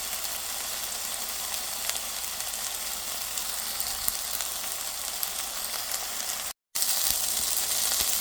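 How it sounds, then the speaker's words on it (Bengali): Chicken chapli kebabs made from mince with light spices fry in a pan, giving a steady, close hiss and sizzle of hot oil that continues alone with no talk. "কাবাবটা আমার ভাজা হয়ে গেছে,"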